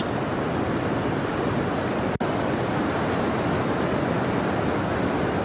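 Water rushes from Khadakwasla dam into the Mutha river at 39,000 cusecs, a loud, continuous broadband roar like heavy surf that fills the whole stretch, with one brief break and no talk.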